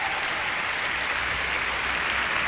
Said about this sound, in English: a nice applause for Jennifer Robinson of Canada